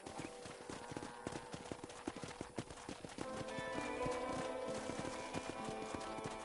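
Horses clip-clop around a ranch corral in the video game Red Dead Redemption, with irregular hoof beats over a soft musical score.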